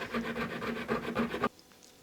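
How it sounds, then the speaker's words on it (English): Fast, rhythmic rasping strokes file a slot wider in a handmade wooden crankbait lure body, then stop abruptly into near silence. "now I need to widen this slot so that my Lexan bib will fit in there"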